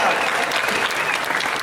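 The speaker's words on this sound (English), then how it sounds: "Good clap." Applause from a Comic Con audience at a panel for Peacemaker Season 2 in San Diego, a dense, steady clapping that fills the hall throughout, loud and continuous with crowd noise mixed in.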